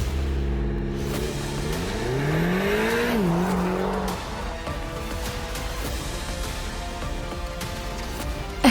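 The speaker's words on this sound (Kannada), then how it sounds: "ಇತ್ತ ವಿರಾಜ್ ಫಾಸ್ಟ್ ಆಗಿ ಕಾರ್ ಡ್ರೈವ್ ಮಾಡೋಕೆ ಶುರು ಮಾಡ್ದ" A car drives fast, its engine revving up through rising pitch with a brief squeal of tyres, then settling into a continuous roaring drone close by.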